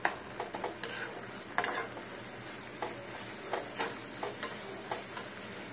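White sesame and coconut mixture for naru being stirred in a pan, giving a soft continuous scraping with regular taps and clicks of the spoon against the pan.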